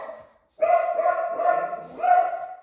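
Dogs give one sustained, whiny bark-yelp after a brief pause, close and fairly loud, with a second rising yip near the end, in a home kitchen.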